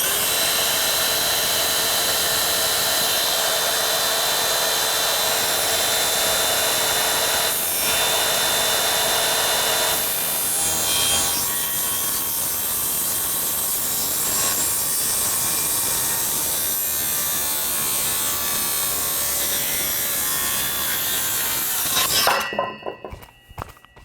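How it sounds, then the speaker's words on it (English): A hand or power saw cuts steadily through a wood workpiece for about twenty seconds, a continuous loud rasping drone that ends abruptly near the finish, with no talking. "So I'm going to bring the saw in until it's just on the other side of that line."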